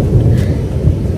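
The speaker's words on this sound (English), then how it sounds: "You can hear the thunder." Low rumbling thunder rolls steadily during rain near a river, a continuous heavy roar with wind buffeting the microphone.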